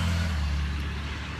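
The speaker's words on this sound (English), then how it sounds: "big truck" A big truck passes by with a deep, rumbling engine drone that is loud at first and then slowly fades, with no voices over it.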